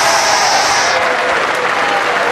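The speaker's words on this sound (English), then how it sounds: "Crowd like that one." A bowling crowd at the Weber Cup bursts into loud, sustained applause and cheering after a strike, a dense wall of clapping that holds steady throughout.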